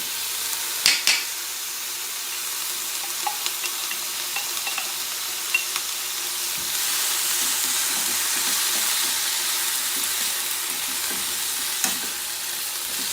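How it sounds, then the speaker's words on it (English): Mushrooms, broccoli and zucchini frying in a pan for a veggie teriyaki rice bowl, a steady close sizzle with a few clinks and stirring scrapes early on, swelling slightly louder partway through. "I'm going to go ahead and add my mushrooms, my broccoli, my zucchini."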